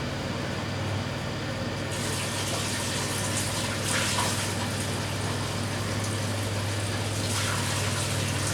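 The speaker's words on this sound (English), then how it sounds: "Let me go ahead and change my water" Water gushes steadily into a container during a carving session, a continuous close rushing flow with slight surges and a low hum underneath.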